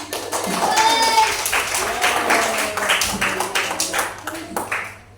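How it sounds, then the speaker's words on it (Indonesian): A class of students claps their hands together in a dense burst of applause that carries on for several seconds, fairly close and loud, with some voices mixed in. "Bagus, tepuk tangan."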